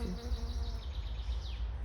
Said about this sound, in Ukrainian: бачите, бджілка прилетіла